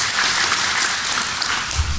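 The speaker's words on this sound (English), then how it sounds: "A round of applause for yourselves." Audience applause at a DefCon security conference talk, a dense, even patter of many hands clapping close and loud throughout, with no talk over it.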